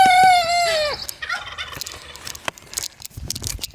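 A young Silkie rooster gives a single short, thin crow lasting about a second that trails off. A jumble of quieter clucks and rustling farmyard sounds follows, close by.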